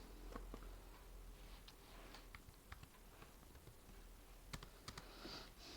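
Soft, scattered keystrokes on a computer keyboard, a few quiet clicks spread unevenly over several seconds against a faint background hiss, with no talking.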